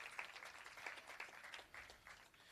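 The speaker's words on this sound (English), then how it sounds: "Give them a round of applause," Faint, distant applause from an audience for seven youth representatives at Jamaica's national youth dialogue, a continuous patter of many hands clapping.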